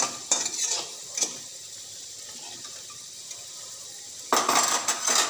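Fried potatoes lifted from a pan in a home kitchen while cooking a potato, tomato and broccoli curry: a few brief clinks and scrapes of a utensil, a quiet pause, then a louder stretch of stirring and clattering near the end.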